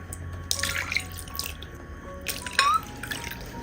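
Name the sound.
pouring water into a bowl of cooked tomatoes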